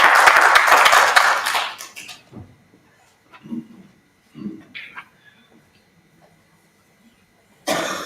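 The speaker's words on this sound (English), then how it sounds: "Let's give her a warm hand of applause" An audience at a community dialogue applauds, a loud burst of clapping that fades out within two seconds, followed by quiet room sounds and a cough, with clapping starting again abruptly at the end.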